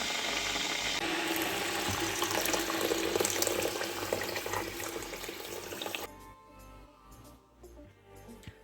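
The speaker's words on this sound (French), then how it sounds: "Je vais mettre de l'eau à bouillir." Tap water gushes loudly into a pot in a kitchen for boiling, then cuts off after about six seconds, leaving quieter clinks and handling sounds.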